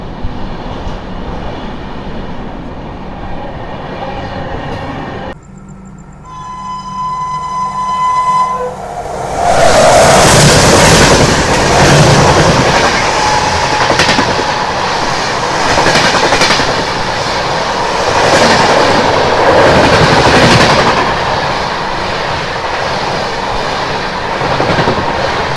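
Charminar SF Express running through Bapatla station without stopping: a loud, continuous rush of wheels and rattling carriages, with a steady tonal hum in the first seconds before the passing roar swells and holds.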